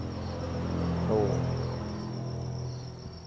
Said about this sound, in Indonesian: ini jangkrik usia 21 hari